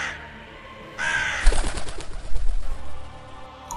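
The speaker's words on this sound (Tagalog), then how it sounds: "Lumabas ang isang uwak sa bunganga ng tiyahin ni Delio" A crow caws in a narrated folk horror story, a burst of raspy calls after a moment of quiet, close and fairly loud against a dim background, with no speech.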